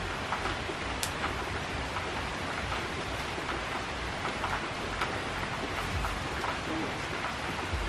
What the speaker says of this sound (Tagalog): Hirap kumilos pag umuulan.